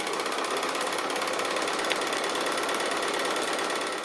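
Sewing machine quilting a cushion made from 2½-inch fabric strips, stitching lines an eighth of an inch either side of the seams, a steady close, continuous rapid whirring buzz with no pauses or talk.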